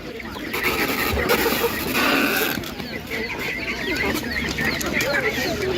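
Roosters and other chickens cluck and crow at a busy outdoor animal market, their calls mixed with the chatter of people talking nearby and general crowd noise.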